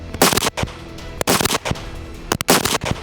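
Three sharp, loud rifle shots ring out one after another at roughly one-second intervals on a military training range, each with a brief echo trailing behind it.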